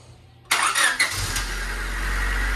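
Honda Civic engine cranking and catching after a breather hose was refitted, a sudden loud start that settles into a steady low idle.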